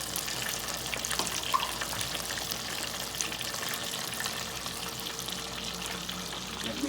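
Tap water runs steadily and continuously while hands are rinsed at a kitchen sink, a close, even hiss with no voices.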